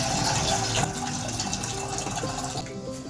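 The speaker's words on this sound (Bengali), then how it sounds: "জল ঢেলে দিচ্ছি আলুটা সেদ্ধ করার জন্য।" Water gushes steadily from a tap into a cooking pot to boil potatoes in a home kitchen, a continuous splashing fill running the whole time with no talking.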